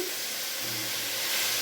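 Fried fish is added to a pan for a fish-and-bean curry, producing a steady, moderately quiet sizzling hiss that runs unbroken.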